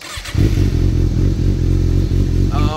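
An already warm Kawasaki Ninja ZX6R with a de-catted exhaust fires up after a brief crank, settling at once into a loud, steady, close idle with a slight lumpy pulse.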